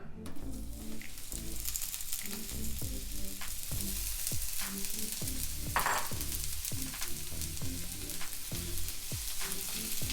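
Vegetables sizzle and crackle in hot oil on a steel flat-top griddle, a steady frying hiss with occasional scraping taps of a spatula.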